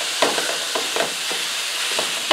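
Ground meat being pressed and twisted in a pan with a mashing tool, browning over steady sizzle and hiss, with soft repeated scraping strokes roughly every half second.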